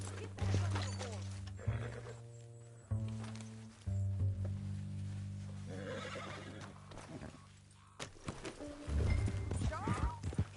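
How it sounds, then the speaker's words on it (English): A horse in Red Dead Redemption 2 clip-clops along with rhythmic hoofbeats, snorting and whinnying at moments, while low tonal music and characters' voices run beneath it. "Get back on the horse."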